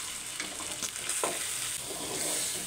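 Mutton fry with chilli powder and salt is stirred in a hot pan, a steady close sizzle broken by scraping and shuffling of the spoon through the meat.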